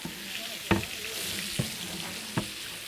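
Salmon sears in a hot pan for Tuscan-style salmon, a steady close sizzle with three distinct sharp clicks of a utensil touching the pan.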